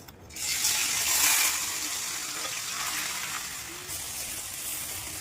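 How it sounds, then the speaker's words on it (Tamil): Prawns drop into hot oil for prawn pickle and crackle in a loud, steady sizzle that swells at first and then settles into a continuous frying hiss. "இப்போ நமக்கு எண்ணெய் சூடாச்சு. இதில் நம்ம எறா சேர்த்துக்கலாம்."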